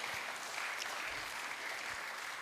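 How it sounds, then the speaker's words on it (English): A round of applause fills a large hall at a Microfinance @20 celebration, steady crowd clapping throughout at even volume with no speech over it. "another round of applause"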